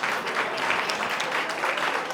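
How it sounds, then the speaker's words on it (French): A live casting show audience applauds contestants, a dense, steady wash of many hands clapping at even loudness throughout, with no voices over it. "On applaudit pour les diplomates de Yaoundé, d'Ongola"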